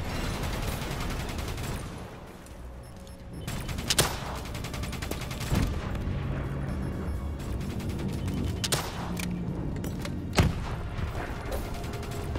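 Rapid, dense gunfire from Call of Duty: Black Ops III combat: sustained bursts of automatic shooting with sharp louder shots standing out at intervals, no talk.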